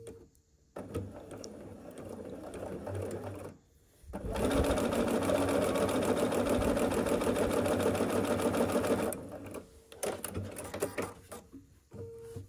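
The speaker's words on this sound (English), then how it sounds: "we're just gonna sew along that, you know, diagonal there" A sewing machine stitches a diagonal seam across a quilt block, running loud and steady for about five seconds after brief starts, with quieter handling sounds before and after.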